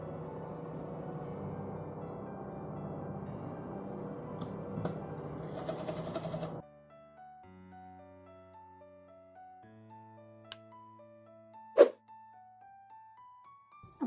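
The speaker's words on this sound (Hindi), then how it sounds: "इसे नीचे से कपड़ा रख के ऊपर सिलाई करेंगे।" A sewing machine stitches trouser fabric with a steady, fast mechanical whir that stops partway through. Quiet tones and a couple of sharp clicks follow.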